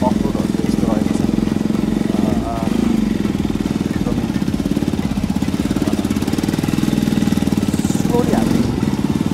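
A motorcycle engine drones loud and close as the bike is pushed along a badly broken, rough off-road main road near Dadagaun in Bhojpur, Nepal, with a steady rumble that keeps going throughout.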